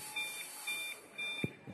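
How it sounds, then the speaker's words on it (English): A small Lua-programmed robot beeping on start-up, three evenly spaced high electronic beeps, clear and moderately loud, followed by a couple of faint knocks. "The beeping was that we didn't really have an interface like a button to press on it to start."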